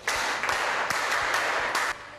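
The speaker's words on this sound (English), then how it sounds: "Clap for her." Several people clap for a girl at a school gathering, a dense burst of applause in five swelling waves with brief dips between them, fairly close and steady, ending abruptly.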